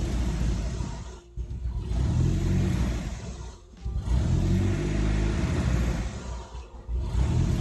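A turbo-converted car engine struggles at idle with no throttle, its rough rumbling drone dipping and nearly stalling every couple of seconds before surging back, heard close and without talk.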